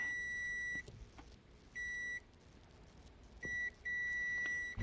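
A multimeter's high continuity beep sounds in several bursts, some short and one longer, while testing a shorted capacitor to ground on an iPhone 8 Plus board, against a quiet background with faint rustling.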